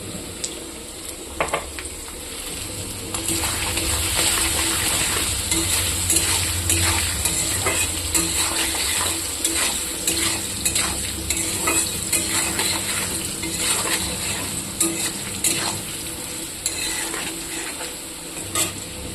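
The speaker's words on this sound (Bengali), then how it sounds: "একটু লাল লাল করে ভাজা করব।" Potatoes sizzle steadily in hot oil while a utensil scrapes and stirs against the pan with scattered clinks, close by, no talking.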